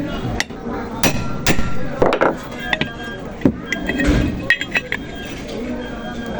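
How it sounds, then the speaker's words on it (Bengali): Sharp metallic hammer blows on a chisel while knocking out the bearing of a one-horsepower motor. The strikes are irregular, close and ringing, with some lighter clinks between them, over low workshop background noise. "তো যাই হোক আমরা ছেনি দিয়ে এইভাবে ছোটায় দেওয়ার ব্যবস্থা করব।"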